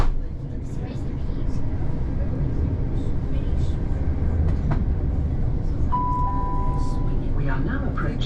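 A Southern Railway train runs along the track between Hove and Haywards Heath, a loud steady rumble and rattle heard from inside the carriage, with a brief tonal squeal near the end.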